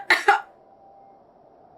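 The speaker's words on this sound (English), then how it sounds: "It's just a cough." A video game character, Miss Mantovani, gives two quick close coughs that sound like throat clearing, followed by a short silence.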